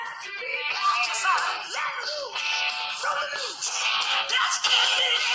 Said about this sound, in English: the trumpet around the back of it will naturally amplify the sound when you plug in your iPhone